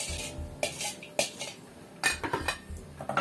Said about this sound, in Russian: Растворяем соль, перемешиваем.